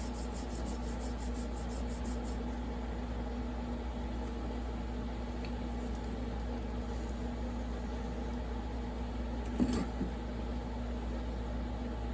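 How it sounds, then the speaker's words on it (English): Steady scrubbing of barnacles off a waterlogged STIHL chainsaw crankcase, a faint continuous rasping rub over a low background hum, with one small knock near the end. "So what I'm doing is just scrubbing it off, scrubbing the barnacles off."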